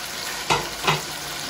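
Whole garam masala spices, including nutmeg and mace, sizzle steadily in hot oil for a Hyderabadi chicken dum biryani. Two brief louder surges rise as more goes into the pan, and no one speaks.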